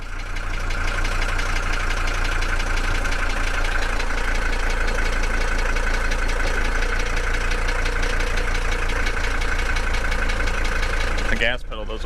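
An old Mercedes engine, started after twenty years sitting in a garage, runs at a steady idle with a continuous loud hum and a faint knocking texture, ending in a brief clatter near the end.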